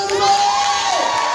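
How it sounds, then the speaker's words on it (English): An audience at a Cannon and Ball show in Blackpool cheers and whoops loudly, with a sustained high shout over a busy crowd roar and clapping. "give her a round of applause"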